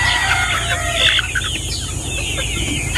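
Chickens at a poultry farm where breeders are raised, with loud, close clucking and a rooster's crow rising over steady background noise, no voices.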